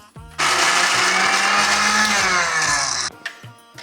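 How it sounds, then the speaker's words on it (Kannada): Kitchen mixer grinder blending a chutney of bajji chillies, roaring loudly for about three seconds and then cutting off, with brief talk before and after. "ಇದನ್ನು ಮಿಕ್ಸಿ ಹಾಕ್ಕೋಬೇಕು."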